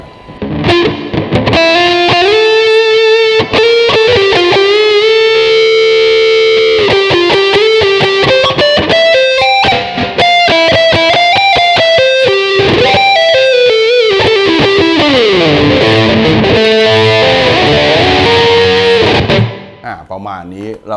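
Electric guitar played through an overdrive effect with reverb added, a distorted, sustained solo line of bent and held notes that rings out loudly before cutting off near the end.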